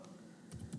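Fingers tap on a computer keyboard while code is entered into a Django configuration file, giving a few soft, quick clicks that grow slightly denser toward the end, quiet and close with no talk.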